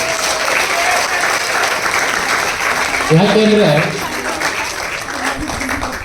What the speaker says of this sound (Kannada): ಒಂದು ಜೋರಾದ ಚಪ್ಪಾಳೆ ಬರಬೇಕು.